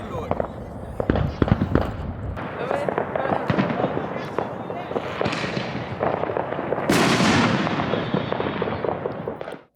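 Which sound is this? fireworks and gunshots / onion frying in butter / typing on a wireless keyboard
fireworks and gunshots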